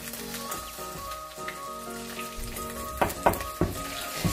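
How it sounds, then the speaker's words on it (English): Chicken sizzles in hot oil in a pan, a steady close frying hiss with a few sharper pops and stirring clatters toward the end. "Start frying the chicken."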